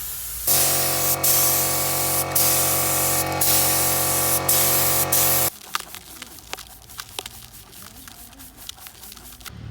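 Spray painting a car wheel with the tyre still mounted: a loud, steady hiss of spray runs for about five seconds with brief pauses, then stops, leaving quieter scattered clicks and handling sounds.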